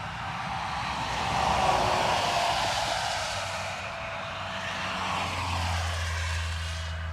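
Qatar Airways Dreamliner at Dublin Airport, a steady broad engine roar that swells and fades slightly, heard from a distance with a low rumble beneath and no talking.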